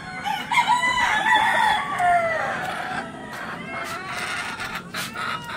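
Roosters crow repeatedly over a steady background of clucking chickens in a backyard breeding farm, several birds calling at once, fairly close and loud.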